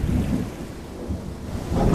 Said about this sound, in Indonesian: Hujan lebat pun turun disertai dengan petir yang menggelegar.